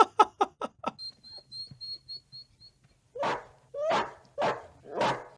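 Dog barking in a scene from the 1982 film Poltergeist: a quick burst of five sharp barks up close, a faint whine, then four louder, longer barks, with no talking.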